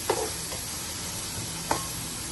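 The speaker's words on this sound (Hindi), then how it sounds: "टमाटरों को भी अच्छे से भून लेंगे।" Finely chopped tomatoes being sautéed in a pan for a turnip and chicken curry, a soft steady sizzle with a couple of faint stirring scrapes, close and quiet.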